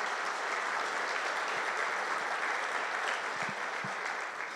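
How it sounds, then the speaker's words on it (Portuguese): Steady, dense applause from a church congregation, a continuous wash of many hands clapping at even loudness with a few faint low thumps. "Você pode aplaudir o Senhor também, porque tem mais uma igreja lá."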